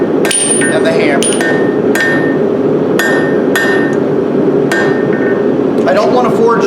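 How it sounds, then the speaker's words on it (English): A hammer forges a hot steel ball-ended leaf hook at a blacksmithing demonstration. About nine sharp, ringing blows land at an uneven pace, each one loud and close, with a metallic ring that quickly fades between strikes. "I'm really purposely forging right into the corner and trapping that in between the corner and the hammer"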